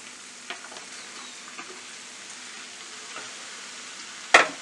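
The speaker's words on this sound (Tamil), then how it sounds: "இப்போ இதை நல்லா கிளறி விடுங்க." Soya chunks in masala are stirred and fried in a pan, giving a soft, steady sizzle with a few light scrapes and one sharp clink of the spoon near the end.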